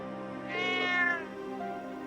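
A single clear cat meow, rising and then falling, comes from the video game Trails of Cold Steel III on PS4. It plays alone over a steady, quiet game background.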